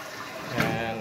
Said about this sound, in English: it's doing its job, filling the tank back up